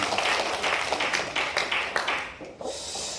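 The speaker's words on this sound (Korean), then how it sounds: "하나님께 영광의 박수 올립니다" A church congregation claps together in dense, steady applause during a Sunday worship service, gradually thinning and fading out toward the end.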